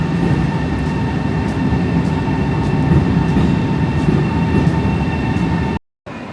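Steady rumble and hiss inside a bullet train riding in China, a continuous loud cabin roar of wheels and air with faint rhythmic clicks, briefly cutting out near the end.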